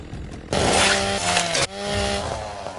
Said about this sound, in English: Nobody can stand a chance with this chainsaw in my hand.